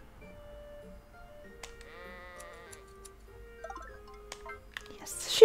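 A sheep bleats inside a barn in a game, a wavering cry in the middle amid soft ticking and sparse ambient tones, followed by a sharp burst at the end.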